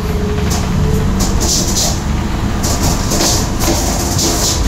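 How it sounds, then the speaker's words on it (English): A loud, continuous diesel rumble of an OSE suburban diesel train pulling away from a station near Athens, with a steady mechanical drone and intermittent pneumatic hissing bursts overhead. "diesel train heading back to Athens with this classic pneumatic doors"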